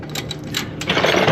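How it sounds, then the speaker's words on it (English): A wheelie cart creaks and rattles beneath a mechanic seated on it while working on a 2013 Harley-Davidson Heritage Softail Classic exhaust, a short, close, grinding squeak that grows louder toward the end. "Sorry about the noise of the wheelie cart there I'm sitting on."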